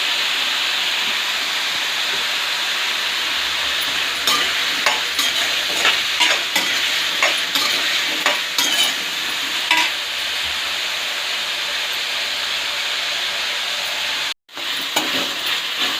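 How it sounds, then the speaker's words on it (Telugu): Green chillies frying in a pan for aloo masala curry give a steady hissing sizzle, with intermittent scraping strokes of stirring over it and a brief cut near the end. "ఇలా కలుపుతూనే ఉండాలి."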